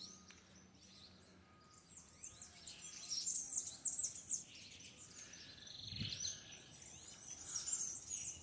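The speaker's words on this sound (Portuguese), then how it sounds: "o som dos pássaros." Several birds chirp and twitter in bright, overlapping bursts by the main church in Miracatu, São Paulo, moderately faint against a quiet outdoor background, with no voices.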